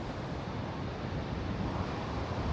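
Strong wind roars steadily against the microphone on a bridge in Box Canyon, Colorado, a constant low buffeting rumble with no voices.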